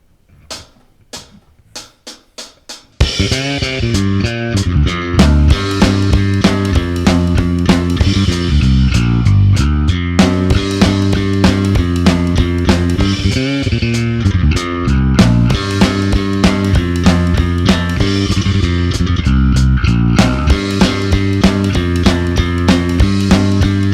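A bass guitar plays a solo at about 192 beats per minute, opening with a few clicks of a count-in before a loud, driving run of fast notes.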